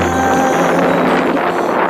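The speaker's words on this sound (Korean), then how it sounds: "어느새 눈발이 날리고 바람 소리는 거칠어집니다." Strong winter wind roars steadily across the microphone in snowy mountain tundra, a loud continuous rushing with low rumbling buffets and no voices.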